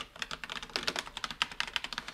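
Someone types steadily on a computer keyboard with linear switches and a fairly soft feel. Keystrokes come close and crisp in an uneven rapid rhythm, and louder clattering hits from the backspace and shift keys stand out, with no voices.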